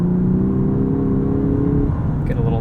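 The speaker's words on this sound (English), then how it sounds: "in Sport Plus and Sport mode, you do have some engine noise piped in" A Lexus LS 500's engine sound is piped into the cabin as the car accelerates, a smooth rising hum that steadies and fades into road noise over a couple of seconds, heard from inside.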